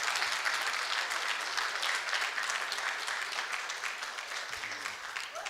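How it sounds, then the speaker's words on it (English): Audience applause at an outdoor commemoration ceremony at Freedom Park in South Africa: sustained, fairly distant clapping from a crowd, holding steady and tapering slightly toward the end. "A round of applause again, ladies and gentlemen."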